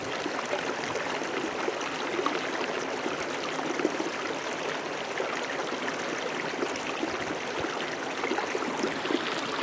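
Filtered water pours from a squeezed Sawyer Mini backpacking filter into a water cup, a constant nearby trickle and splash that runs unbroken throughout.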